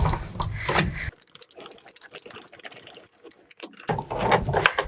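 A Sizzix die-cutting machine rolls cutting plates through with a mechanical grinding, gear-like whir, loud for about a second at the start and again near the end, with quieter clicks and handling noises between.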